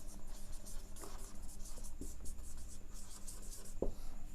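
Handwriting a sentence on paper for a grammar lesson, a steady scratchy rubbing of pen strokes with small taps and pauses, close and fairly quiet, no talking.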